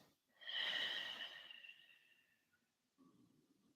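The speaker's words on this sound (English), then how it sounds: "Four more full deep breaths." A slow, deep breath drawn close to the microphone during a relaxed yin yoga session swells into a long, airy rush and then fades away, followed by a short, softer breath.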